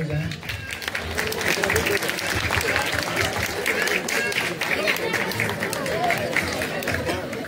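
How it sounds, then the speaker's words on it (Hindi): At a church Christmas gathering's prize giving, the congregation claps for a winner, with steady applause mixed with crowd chatter and movement, all fairly loud and continuous. "सब जोरदार थोड़ा ताली बजाएं।"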